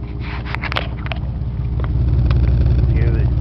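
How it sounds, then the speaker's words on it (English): A Cadillac Eldorado Touring Coupe idles with a steady low rumble that grows slightly louder toward the end, with faint clicks and light handling noises over it. "Engine, it has a nice sound to it"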